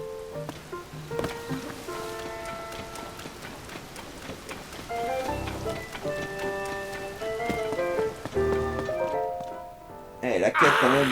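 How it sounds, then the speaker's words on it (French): Steady rain patters in Zelda: Tears of the Kingdom under sparse, plinking game music notes. French speech is heard over it, and there is a louder burst of activity at the end. "Ouais, il pleut, mec."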